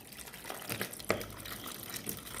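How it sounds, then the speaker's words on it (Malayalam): Water drained off raw mangoes being poured into a vessel while making pickle, a quiet, brief trickle and a few soft splashes and drips up close, with no voices. "കുറച്ച് വെള്ളം ഉണ്ട് ഒഴിച്ചെടുക്കാം"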